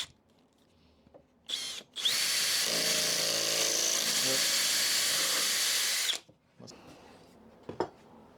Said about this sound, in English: I couldn't get the drill to go down